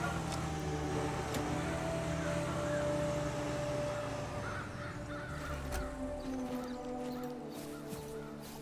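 Crows caw over a low, steady ambient background of wind and distant hum in the video game Call of the Wild: The Angler, the calls faint and scattered.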